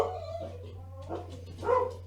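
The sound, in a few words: dogs barking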